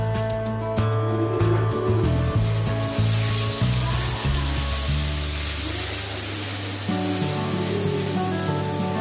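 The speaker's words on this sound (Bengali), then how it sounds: "এর মধ্যে দিয়ে দিতে হবে পেঁয়াজ আদা রসুনের যে পেস্টটা আমি করে রেখেছি ওইটা" Onion, ginger and garlic paste sizzles and spits in a hot oiled pan while cooking potol korma, a steady close frying hiss with a few clinks of stirring.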